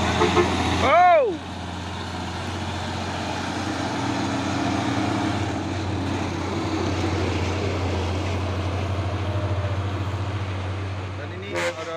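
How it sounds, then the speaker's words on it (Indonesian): A brief wavering horn opens, then two trailer trucks hauling isotanks roll by on the road with a low, continuous engine rumble that stays loud and steady throughout, with faint voices present. "Dan ini ada 2 unit truk trailer membawa apa ini, isoteng."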